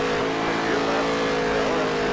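A race car engine in the NASCAR Heat 3 video game holds a loud, steady high-pitched drone at sustained speed, close and continuous throughout.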